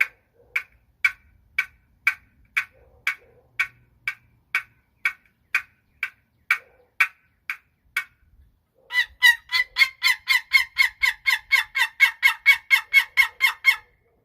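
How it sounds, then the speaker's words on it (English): A Primos wooden turkey box call gives a slow series of single clucks, then switches to a fast, continuous run of raspy yelps, close and clear. "So that's the box call on that one."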